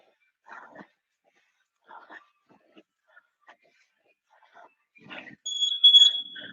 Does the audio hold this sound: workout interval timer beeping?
yes